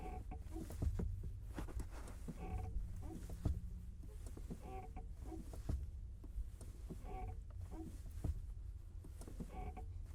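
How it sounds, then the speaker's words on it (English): Clutch pedal of a 2016 Subaru WRX pushed in and out all the way, giving a rhythmic croaking creak that repeats roughly every couple of seconds over a low steady rumble, close and fairly quiet. "That's me pushing the clutch in and out, all the way down."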